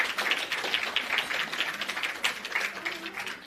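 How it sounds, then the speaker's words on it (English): Audience at a patient empowerment summit applauding, a steady dense wash of clapping hands sustained throughout, moderately loud and continuous with no pause. "let's give her a round of applause"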